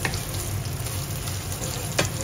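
Onion fries in a hot pan for an adobo with fresh bamboo shoots, giving a steady dense sizzle throughout with one brief clatter near the end and no voices.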